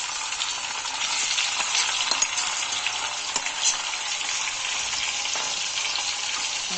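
Tomatoes frying in a hot pan, a dense, continuous close sizzle with occasional light stirring scrapes, steady throughout and with no voices.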